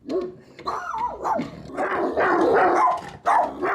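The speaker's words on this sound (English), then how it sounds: "And when Bones barks, his sidekick Fudge backs him up." A dog barks and growls close up in an agitated run of rough barks, with snarling rumbles between them and no talking.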